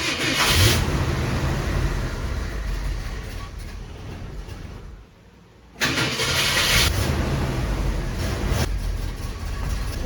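A Ford Thunderbird's 390 V8 engine runs loudly and steadily up close, a rough, throbbing rumble that drops briefly to a quieter dip before surging back strong.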